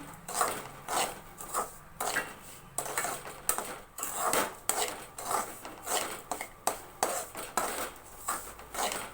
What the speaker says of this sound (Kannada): ಇವಾಗೆಲ್ಲವೂ ಕೂಡ ಚೆನ್ನಾಗಿ ಮಿಕ್ಸ್ ಮಾಡ್ಕೋತಾ ಇದ್ದೀನಿ